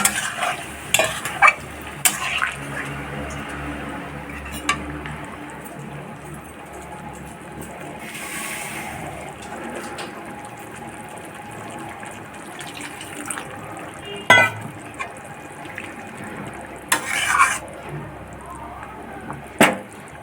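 Water pours into a hot pan of boiled radish, hissing and sputtering over steady frying noise, with occasional clanks and scrapes of a utensil. The sound is close and uneven, and a few louder bursts stand out.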